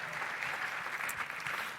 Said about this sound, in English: can you give a round of applause to this amazing couple